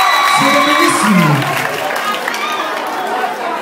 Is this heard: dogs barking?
no